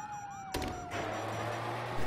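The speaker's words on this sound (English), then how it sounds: "You hear that? Sirens!" A wailing police siren in Grand Theft Auto V sweeps up and down, then is cut off by a sudden loud burst, followed by a steady electronic drone and noisy background.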